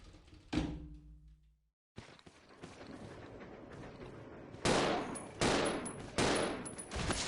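Gunfire in the Resident Evil 0 video game, starting with one sharp shot and a ringing tail, then a brief silence, rattling bursts, and several loud, close blasts toward the end.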